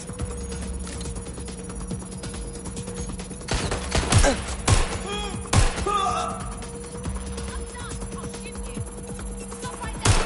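Gunfire crackles in Watch Dogs: Legion as several sharp shots and short bursts ring out over a steady background hum of game ambience, with a few louder impacts clustered near the middle.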